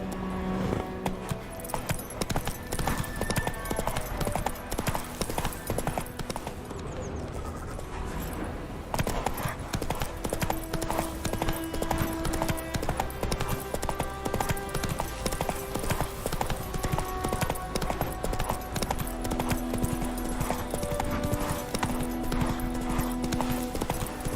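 Horse galloping in the video game The Witcher 3: rapid, continuous hoofbeats drum along steadily for the whole stretch, with a dense game soundscape underneath.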